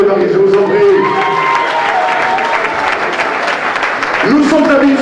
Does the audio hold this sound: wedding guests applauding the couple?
yes